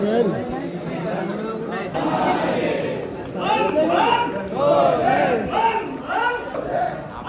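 A dense crowd of pilgrims at Bhimashankar temple fills the air with overlapping chatter and raised, calling voices, loud and close, swelling and ebbing throughout.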